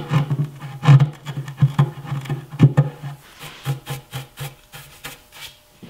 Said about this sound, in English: I'll use a sharp chisel to straighten out the corners